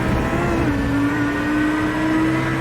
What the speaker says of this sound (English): Listen to that engine of Jeff Connell's wind its way up through the gear